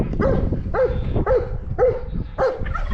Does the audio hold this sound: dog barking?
yes